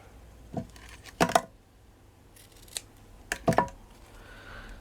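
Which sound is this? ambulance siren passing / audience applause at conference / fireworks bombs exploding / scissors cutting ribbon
scissors cutting ribbon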